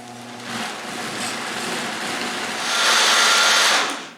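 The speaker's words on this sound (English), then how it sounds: "So I'm going to ladle it into my Vitamix blender." A Vitamix blender purees cooled watercress soup, giving a steady broadband whir that rises louder and brighter near the end as the motor speeds up, then cuts off abruptly; no talking.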